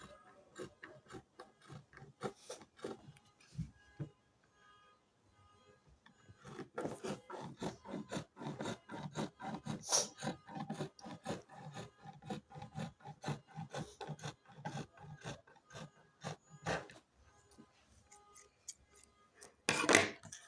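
Scissors snip through fabric while a peplum top is cut out, producing a long run of close, crisp cutting strokes in irregular bursts, quiet at first and busier later, with no talk.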